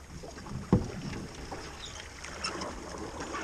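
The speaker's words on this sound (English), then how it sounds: "I'm splashing the water. The canoe's moving every which way." Water sloshing and splashing around a moving canoe, with a sharp knock early on, followed by soft irregular lapping under steady wind noise outdoors.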